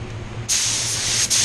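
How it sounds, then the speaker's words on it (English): A spray gun at 27 psi releases a loud, steady hiss of sealer sprayed onto a raw plastic panel, briefly cutting out and then resuming, close by over a low background hum. "I'm going to spray at 27 psi"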